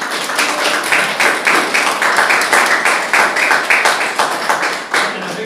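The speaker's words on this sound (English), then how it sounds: "Can I have a big round of applause for Peter?" Applause breaks out from a fringe comedy show audience at Watford, rhythmic clapping in quick, even beats, loud and close, continuing for several seconds.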